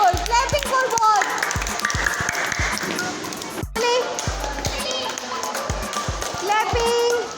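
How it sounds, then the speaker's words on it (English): Children in a Montessori game session clap for both players, giving repeated bursts of sharp, rhythmic claps in a small room while an adult voice talks over them. "Clapping for both."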